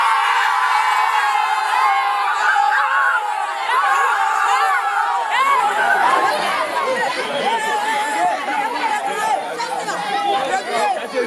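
A street crowd in Yopougon, Abidjan, chatters and then erupts into loud shouting and whooping, many voices cheering together close by and building in intensity.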